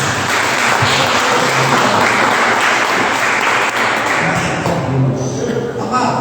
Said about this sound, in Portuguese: Você pode dar uma salva de palmas para o nosso Senhor Jesus?